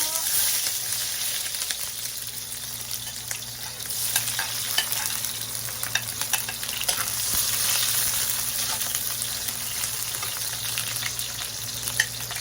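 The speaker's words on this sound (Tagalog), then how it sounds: "Simulan na po natin ang paggigisa. Sibuyas po." Chopped onion sautéing in a pan as it begins the gisa base, a steady close sizzle with occasional stirring scrapes running continuously throughout.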